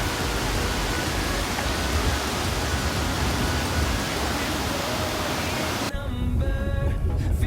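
Waterfall in Munnar roaring as a steady, dense broadband rush, close and loud throughout, with a short shift in texture near the end.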